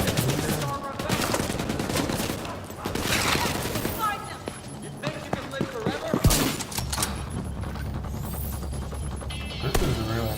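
Rifle gunfire in a video game crackles in dense, repeated volleys, with several sharp bursts over a steady backdrop of game noise while someone talks over it.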